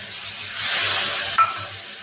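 Water poured into hot mustard oil with ground mustard paste hisses into a loud, broad sizzle while a utensil stirs, cooking a boal fish curry with potatoes; the frying swells, then settles into a steady hiss with a brief scrape.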